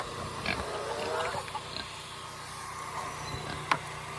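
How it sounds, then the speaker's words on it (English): Pigs grunting at feeding time on a homestead, low snorts and oinks mixed with a bucket clank and rustling in the background, fairly close. "I'm gonna give it to the pigs first"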